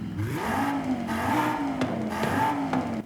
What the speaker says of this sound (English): But with the race exhaust, how does it sound?